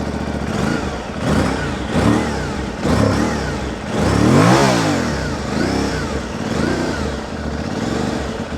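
Aprilia Tuareg 660 motorcycle engine fires up nearby and idles unevenly, then rises through several sharp revs with a loud swell in the middle before settling back to a steady, throaty idle.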